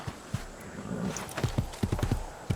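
Horse in the Assassin's Creed II video game, a short whinny followed by a run of clip-clopping hooves, fairly close, the steps quickening into a steady rhythm.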